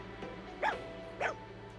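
A dog in the Fire Emblem Engage video game gives two short, soft barks about half a second apart over a quiet background hum.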